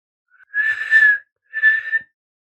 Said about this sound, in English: Then she whistled twice